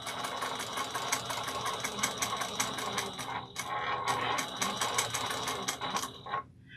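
A 5550 sewing machine stitching at a 4.5 stitch length for a backpack, running in a steady continuous whir with a brief pause midway, then slowing and stopping near the end.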